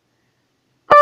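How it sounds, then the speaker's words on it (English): Phone beep cutting in abruptly at the very end after silence, a short harmonic electronic tone, loud and close, heard during a drywall repair and mounting demonstration. "Sorry about the noise. This is a phone."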